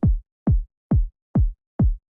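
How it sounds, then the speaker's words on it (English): Four-to-the-floor kick drum pattern from a UK garage sample: five evenly spaced, punchy electronic kicks, each a short deep thump with a falling pitch, played dry and alone with silence between hits. "The first one is a basic 4 to the floor rhythm."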